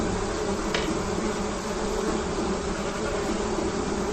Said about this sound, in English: off in the distance, you can hear like loud buzzing noises